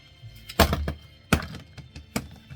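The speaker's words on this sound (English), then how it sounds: "Battery goes back in." A laptop battery is pushed back into its bay during a hard disk replacement, giving a few sharp plastic thunks and clicks spaced apart, close and fairly loud, with no talking.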